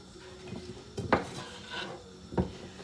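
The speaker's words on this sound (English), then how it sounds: "Then I'm going to put in a tablespoon of flour and then mix it all in." A spoon stirs flour into a stock pot with stock cubes, scraping and knocking against the pot in a few distinct clinks amid soft swishing, close and fairly quiet with no talk.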